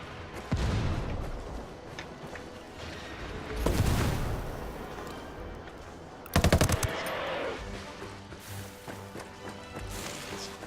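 Enemy gunfire in the tactical shooter game Ghost Recon Wildlands: loud bursts of automatic and single shots near the start, around the four-second mark and again past six seconds, over a steady game ambience.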